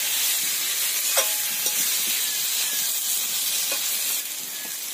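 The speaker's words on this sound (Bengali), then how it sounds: "এবার খুন্তি দিয়ে নেড়ে ধরে একসঙ্গে মিশিয়ে নিচ্ছি" A spatula stirs fish and bottle gourd curry in a sizzling pan, steady frying hiss with occasional metallic scrapes and clinks, close and constant, easing off slightly near the end.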